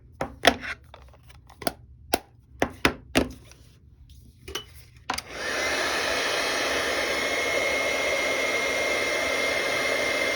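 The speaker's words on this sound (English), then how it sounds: "Throw some water on there and see where it goes when we heat tool it" An embossing heat tool switches on after a few sharp clicks and taps, then blows a loud, steady whooshing hum while drying water on a paper card.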